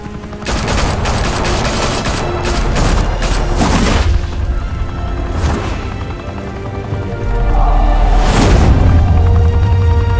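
Video game gunfire in Batman: The Telltale Series, loud sustained bursts of automatic shots with heavy booms, a pause, then another thunderous blast near the end.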